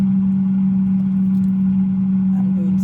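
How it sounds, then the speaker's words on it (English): An air fryer cooking chicken, a steady, loud electric hum droning without change, with a voice faintly present over it. "I'm fixing some chicken in the air fryer, so you will hear that noise in the background."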